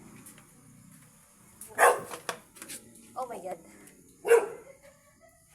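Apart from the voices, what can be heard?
dog barking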